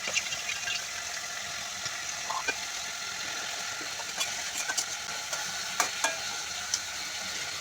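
Fish pieces fry in a pan of oil with a steady sizzle, broken by sharp pops and spatters at irregular moments, close and moderately loud.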